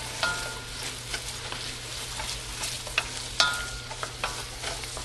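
Sweet and sour cabbage cooks in a hot pan with a continuous sizzling hiss, broken by scattered light clicks and scrapes of stirring, and one sharper knock partway through.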